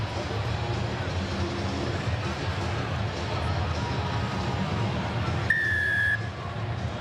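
Referee's whistle blowing to restart the second half of a 2016 All Blacks versus Australia rugby test in Wellington, a single short shrill blast rising over a steady roar of the stadium crowd.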